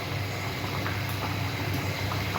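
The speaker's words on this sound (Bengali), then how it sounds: "ঝোল ফুটে গেছে" Broth for a koi fish and jackfruit curry boiling in a pot, giving a dense, constant bubbling roar with no pauses and no voices.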